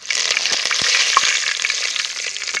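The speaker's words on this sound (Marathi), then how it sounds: "आणि आता ही जिरी आणि मोहरी आणि मग हे जरा आपली तेजपत्ता आणि खडा मसाला आहे कढीपत्ता आहे" Cumin, mustard seeds, bay leaf, whole spices and curry leaves sizzle and crackle in hot tempering oil, a loud, steady frying hiss with small pops, close and alone.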